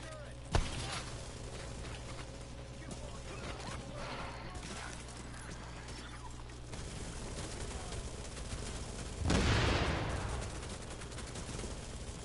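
Gunfire shoots up a turret in a dark-zone shooter game on PS4: one sharp shot at the start, then scattered crackling hits and debris under background noise, and a loud burst of crashing impact near the end.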